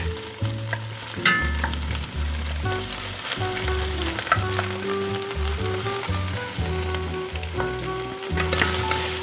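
Shrimp shells and heads frying in butter in a pan, a loud, continuous close-up sizzle with crackling spatters and occasional stirring, no voices.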